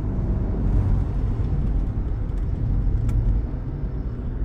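A VW Golf 7 GTI Performance with a 169 kW engine drives a twisty mountain pass, its engine a steady low rumble heard from inside the car with road noise, holding an even drone throughout.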